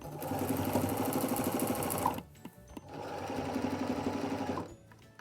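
Sewing machine stitching bias binding onto a bag made from a polo shirt, two rapid buzzing runs of about two seconds each separated by a brief pause with small clicks.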